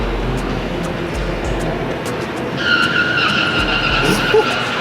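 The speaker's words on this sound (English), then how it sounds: "You hearing the tire screech?" Ford Lightning truck on a short indoor drag strip at an auto show lets out a high tire screech over the steady rumble of a crowd and hall noise, people talking faintly in the background.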